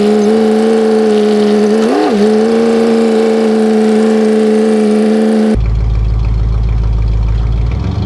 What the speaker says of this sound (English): even though it's old and stock, the truck sure does sound good